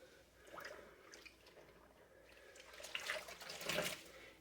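Water runs and splashes in a sink while balls of yarn are washed and soaked, a soft, fairly quiet trickle that swells into brighter splashing toward the end.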